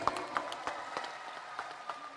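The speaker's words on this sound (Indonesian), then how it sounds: "Boleh kembali kita berikan tepuk tangan yang paling meriah Bapak dan Ibu." Sparse, scattered clapping from an audience at a national working meeting, individual claps standing out at irregular intervals over a quiet hall, fairly faint and thin.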